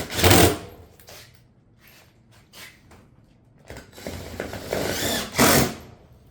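A screw gun driving fasteners through shake panels into a two-piece roof valley, loud whirring bursts at the start and near the end with quieter handling noises and scraping between them.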